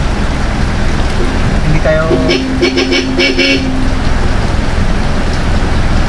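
Heavy rain pours steadily during a storm, a dense roar throughout, briefly joined by a few vehicle horn toots and a short spoken phrase.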